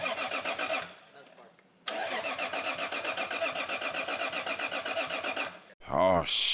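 A modified BMW E36 engine cranks repeatedly without catching: two long stretches of rhythmic starter churning split by a short pause, then a brief final whir, all loud and close.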